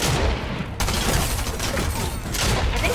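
The Mythic Gunner SMG fires in Fortnite as a rapid, continuous stream of dense, loud gunfire filling the whole stretch, with no talking.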